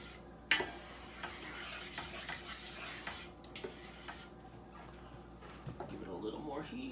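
A wooden spoon scrapes and stirs a roux for chicken and sausage gumbo as it reheats in a pot, with soft rhythmic scraping, a faint sizzle, a knock on the pot, and a person talking throughout.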